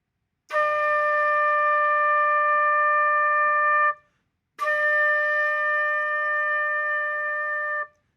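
Flute playing two long sustained notes, each started with a tongued attack, separated by a short pause, close, steady and clear with no talk.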